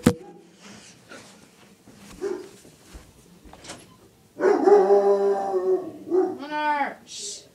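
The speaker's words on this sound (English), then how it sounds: "Sorry, my dog's barking." A pet dog barks indoors, starting with faint yips and whimpers, then a loud run of harmonic barks and a howl-like whine near the end, with a person talking quietly early on.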